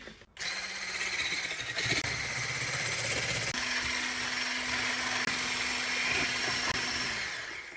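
An electric kitchen machine whips egg whites into foam with a steady, close motor whir that runs for several seconds, its pitch shifting partway through.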